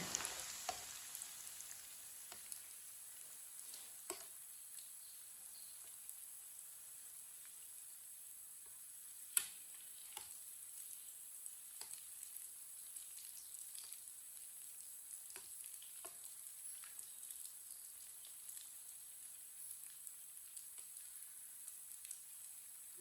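Pakoras frying in hot oil give a faint, continuous sizzle dotted with small pops and crackles, steady and unbroken throughout.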